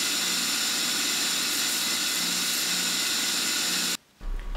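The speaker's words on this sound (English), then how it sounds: "I opted to shape them in the grinder" A grinder shaping wire snake guide feet for a homemade fly rod, giving a steady, loud, high-pitched whine with a grinding hiss that runs without a break and then cuts off abruptly near the end.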